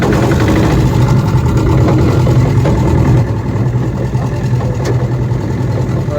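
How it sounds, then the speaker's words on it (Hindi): A motor boat's engine runs loud and close with a continuous rough, vibrating drone that eases slightly partway through, on an outing near the Diggi Kalyan Ji temple in Malpura, Tonk. "और ये यहाँ पे स्टार्ट कर दी है नाव।"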